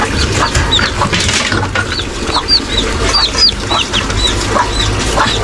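Newly hatched Rhode Island Red chick, hatched under a duck, giving repeated high, thin peeps close by over faint farmyard background noise, with no talk.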